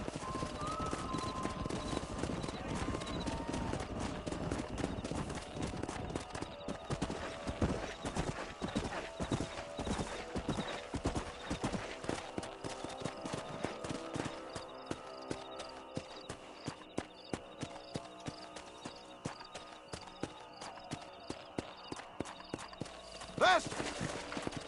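Horses galloping in the video game Red Dead Redemption, hooves pounding in a rapid, continuous clip-clop with occasional whinnies, while characters talk over the ride.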